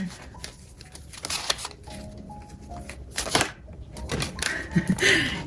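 Tarot cards shuffled by hand, a series of quick papery riffles and soft taps close to the microphone, with faint clicks scattered through the brief stretch.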